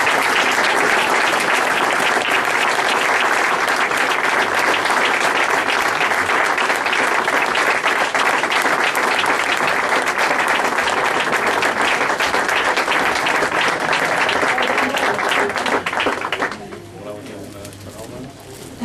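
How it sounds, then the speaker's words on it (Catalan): Sustained audience applause at a castellers' honorary shirt presentation in Cornellà, dense and loud for about sixteen seconds before dropping sharply to a faint murmur. "un aplaudiment per ell."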